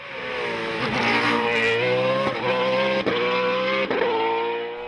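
Race cars climb a mountain course at the Dunières hill-climb, one engine revving hard and close through rising gear changes, with sharp shifts punctuating a loud, continuous roar.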